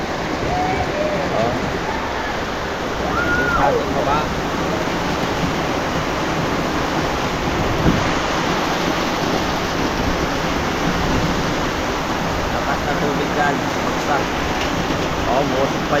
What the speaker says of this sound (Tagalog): napakalakas na ulan ngayon